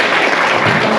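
Loud, dense applause from an audience at a school event, steady clapping filling the whole second with no break.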